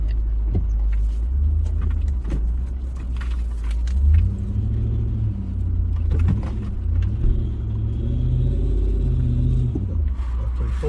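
A Nissan Y62 Patrol crawls slowly over rocks on Tasmania's west coast, heard from inside as a steady low rumble with engine hum that swells and eases, plus occasional faint knocks.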